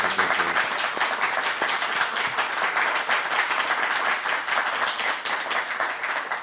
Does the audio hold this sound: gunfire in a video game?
no